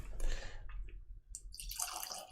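Whisky, a BenRiach 17-year Septendecim, poured from a bottle into a glass: a short, quiet liquid trickle and splash with a few drips, heard alone over faint background hum.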